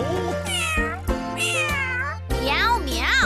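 Cartoon-style cat meows, three drawn-out rising and falling cries, each sung over a bright children's farm-song backing track with steady music underneath.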